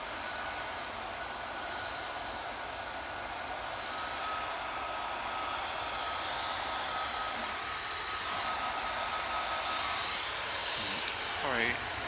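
A smaller TUI jet airliner lines up from a taxiway at Manchester Airport, its engines giving a steady far-off whine and hum with a thin tonal whistle, and a brief higher sweep near the end.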